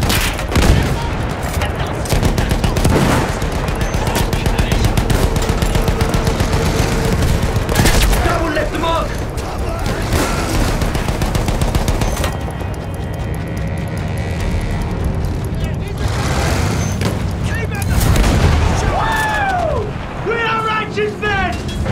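Dense battlefield gunfire from Battlefield 1 rattles on nearly nonstop, with repeated sharp shot bursts, machine-gun volleys and heavy booms layered together, loud and chaotic, while voices call out over the fighting.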